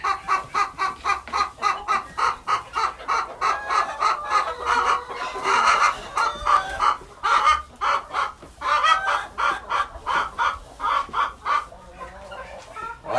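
Backyard chickens cluck steadily and repeatedly up close, a busy rhythmic run of clucks with occasional louder calls, no talking.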